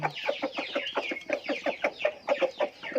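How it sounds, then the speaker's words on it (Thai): A farm rooster clucks repeatedly to call hens, a quick, steady run of close, loud clucks that fills the whole stretch with no talk over it. "เขาก็จะได้กุ๊กกักเรียกตัวเมียนะครับ"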